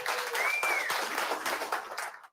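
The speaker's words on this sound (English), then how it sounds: "Clap your hands, ladies and gentlemen." An audience at a hypnotist show claps hands in a brisk burst of applause, fairly close and lively, with a voice briefly calling over it before the clapping cuts off.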